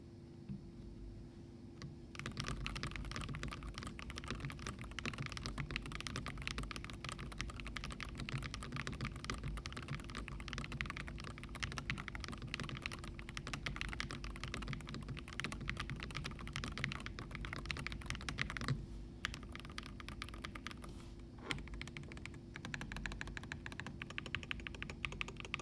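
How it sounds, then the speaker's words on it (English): Keys on a Field75HE keyboard fitted with stock magnetic white switches clack in fast, steady typing, up close and quiet, with no talking. "I will do a quick sound test of the stock config."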